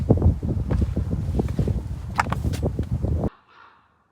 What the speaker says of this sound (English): Windy descent.